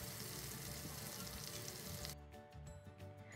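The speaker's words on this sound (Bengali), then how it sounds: "কিছুক্ষণ ভেজে নিব প্রতি সাইডে 2-3 মিনিট করে উল্টে পাল্টে ভেজে নিতে হবে" Whole chicken frying in oil for a wedding-style roast, a continuous hissing sizzle that drops to a softer crackle with turning and clatter near the end.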